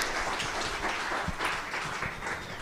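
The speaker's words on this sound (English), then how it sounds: "One more time for Shane. Round of applause." An audience at a Renault car livestream event gives a steady round of applause, a dense wash of clapping that holds throughout the short stretch.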